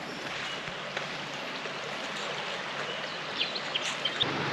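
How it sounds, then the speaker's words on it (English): A small creek in the Victorian High Country near Dairy Flat flows with a steady, even broadband rush, close and continuous, with a few faint bird chirps near the end. "Nice little creek down here."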